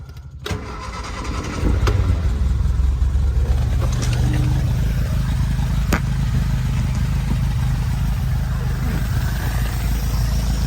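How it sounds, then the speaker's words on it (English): A Lotus Elan engine being set up with carburettor tuning, cranking briefly and then running loud and steady at a close, even idle, a few sharp clicks breaking over the drone. "So the engine speed hasn't really decreased."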